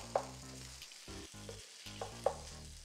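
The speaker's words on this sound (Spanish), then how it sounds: "Ponemos la carne y la sellamos" Pork pieces seared in a hot pan for a mushroom stir-fry, a steady close sizzle with a few sharp pops, broken by short gaps and an underlying low hum, no talking.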